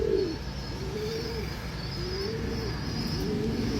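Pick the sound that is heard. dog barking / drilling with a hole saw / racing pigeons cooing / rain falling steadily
racing pigeons cooing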